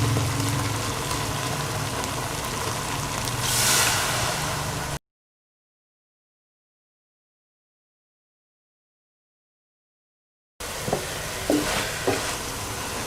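Cubed potatoes and fenugreek for aloo methi sizzle in a hot pan, with steady frying crackle and stirring scrapes that break off into a long silent gap before the sizzle resumes.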